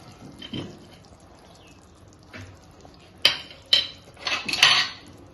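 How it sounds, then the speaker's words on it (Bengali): A spoon clinks and scrapes against a cooking pot as ghee and garam masala are added, several sharp metallic knocks and rattles over a quiet kitchen background. "এই যে 1 চামচ ঘি দিলাম, আর গরম মশলা গুঁড়ো দেবো, দিয়ে নামিয়ে নেব"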